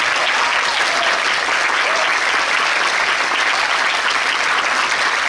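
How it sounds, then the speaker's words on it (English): A dense, loud wash of audience applause fills a concert hall for a string ensemble, continuous and even throughout with no voices on top. "a huge round of applause to SP String Ensemble"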